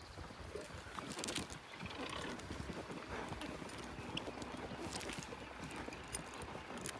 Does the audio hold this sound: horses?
yes